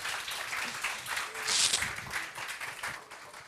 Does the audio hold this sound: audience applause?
yes